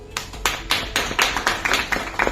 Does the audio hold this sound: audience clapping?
yes